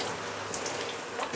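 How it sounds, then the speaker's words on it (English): Warm shower water runs in a steady, close hiss and patter during a Great Dane puppy's first bath, with no voices over it. "That's a warm shower."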